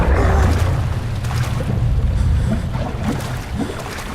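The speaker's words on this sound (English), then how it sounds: "That was the water monster by the sounds of it." The water monster in the video game Amnesia: The Dark Descent makes a heavy, rumbling low surge of churning water, loud at first and slowly easing, with faint splashy thuds, no speech.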